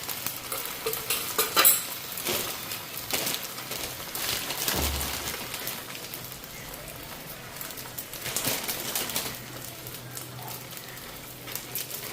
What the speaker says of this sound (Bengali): ডিমটা দিয়া দিলাম, ভাজা হোক